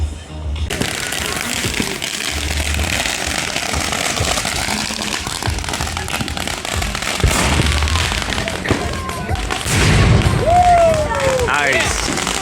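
A 21-shot, 500 gram firework cake goes off on the Fourth of July, a dense, loud run of rapid bursts and crackling pops that keeps going for about twelve seconds, with a rising whistle near the end and voices in the background.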